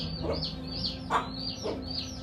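Chickens cluck softly nearby in a few short bursts, with faint chirps and a steady low hum behind them.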